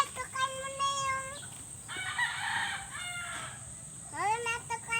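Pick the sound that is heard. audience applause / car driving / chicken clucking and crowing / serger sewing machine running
chicken clucking and crowing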